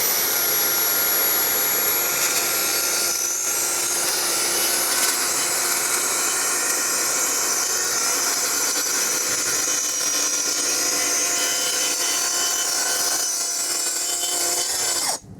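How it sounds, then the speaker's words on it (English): Plunge track saw cutting a deck board, a continuous high whining buzz held steady for about fifteen seconds, loud and close, stopping abruptly at the end with no talk. "It's a plunge type saw, so it plunges down into the material and then you just go."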